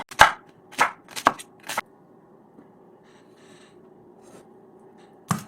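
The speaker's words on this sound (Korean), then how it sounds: "칼집을 이렇게 넣어주라고 한 번씩" Kitchen knife scoring cuts into food during Korean holiday cooking, likely ribs for braised beef galbi-jjim: four short crisp strokes close together, then quiet with faint background sounds and one more stroke at the end.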